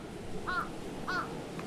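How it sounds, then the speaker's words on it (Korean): Two harsh caws from a crow out in falling snow on Jeju, evenly spaced about half a second apart, fairly close and clear over a soft steady background hiss. "이 까마귀가 지금 우리 눈 오니까 좋아서 그런 것도 있지만 제가 나타나니까 좋아서 반기는 거예요"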